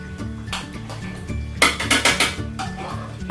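Butter is scooped from a container into a mug for a keto recipe, with a series of clinking utensil scrapes and taps against the container and mug, several sharper knocks in a quick run near the middle.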